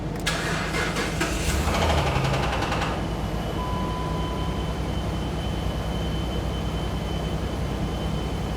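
A 2008-2012 Jeep Liberty engine cranks, catches and settles into a steady idle after a fuel pump replacement. The starter whirs loudly for a few seconds, then a smooth, even idle hum continues close by.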